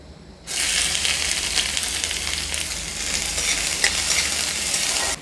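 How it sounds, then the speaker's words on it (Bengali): Chopped onion goes into hot oil with bay leaf, dry red chilli and whole garam masala, and a loud sizzle bursts in after a brief quiet moment. Busy frying and stirring follow and hold steady until the sound cuts off at the end. "দো পেঁয়াজা বানানোর জন্য এখানে আমি ফোড়নে নিয়েছি তেজপাতা, শুকনো লঙ্কা আর গোটা গরম মশলা। একই সঙ্গে দিয়ে দেবো কুচনো পেঁয়াজ।"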